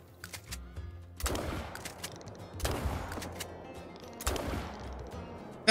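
Couso 16ga shotgun fired at ptarmigan in a hunting video game on Revontuli: three loud, sharp blasts spaced about a second and a half apart, each trailing into a long rolling echo.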